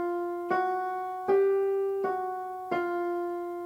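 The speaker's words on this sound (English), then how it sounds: "I also love this horn line that happens during" A sustained horn line from the Cinderella reprise, four held brassy tones entering one after another, each swelling then slowly fading, clear and alone.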